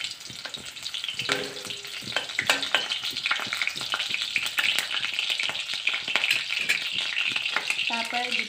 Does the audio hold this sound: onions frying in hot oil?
yes